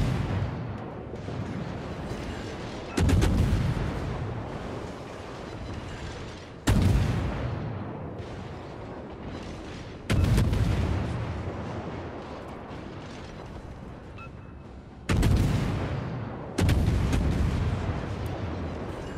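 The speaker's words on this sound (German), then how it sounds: "Ja, die Fletcher wird da jetzt hart beschossen." Naval guns in World of Warships hammer a Fletcher destroyer: heavy booming salvos land in separate bursts every few seconds, each a loud sharp blast decaying into rumbling, with quieter battle noise between them.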